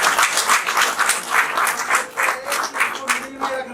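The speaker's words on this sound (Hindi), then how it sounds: "इसको सर के लिए ताली बजाओ।" An audience clapping for a teacher, loud rhythmic bursts of many hands in pulses, with a voice briefly audible beneath near the end.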